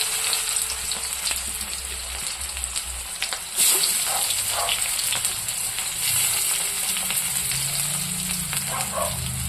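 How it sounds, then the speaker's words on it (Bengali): Chopped onion sizzles steadily in hot oil in a wok for a fish and cucumber curry, a dense continuous frying hiss with a brief louder burst partway through as it is stirred. "পেঁয়াজটা একটু লাল লাল করে ভাজবো।"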